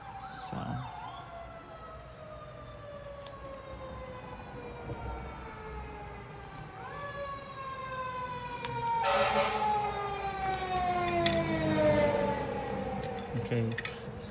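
An emergency vehicle siren drifts in through an open window, faint and distant. Its wailing tones sweep down repeatedly over several seconds above quiet room noise.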